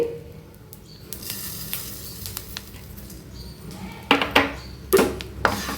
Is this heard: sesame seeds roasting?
yes